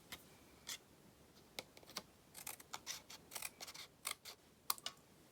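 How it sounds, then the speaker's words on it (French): Scissors snipping away excess material on a handmade card project, a quiet, close series of short irregular snips with small pauses between them. "Voilà, donc je vais couper mes excédents."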